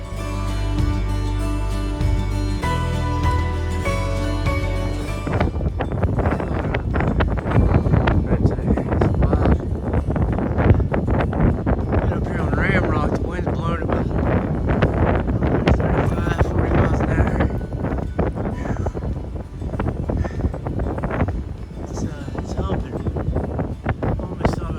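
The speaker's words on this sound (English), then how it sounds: "Finally got out of that damn wind" Wind blows hard on the Appalachian Trail, buffeting the microphone with a loud, constant, roaring rush that fills most of the stretch.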